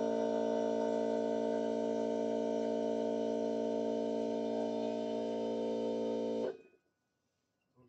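DeWalt air compressor running, a steady droning motor hum with strong tonal harmonics for about six and a half seconds before it cuts off abruptly into near silence.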